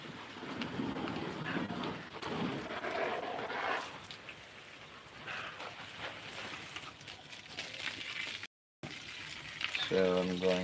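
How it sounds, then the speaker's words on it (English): Water from a garden hose sprays and splashes onto soil in a steady rushing hiss, with a brief voice near the end. "So I'm going to water this area here."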